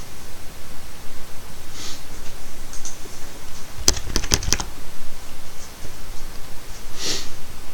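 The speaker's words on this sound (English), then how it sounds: "type in man space apt-get" A computer keyboard is tapped to enter a Linux command, giving a quick cluster of sharp keystrokes in the middle plus a few scattered clicks over a steady background hiss, with no talking.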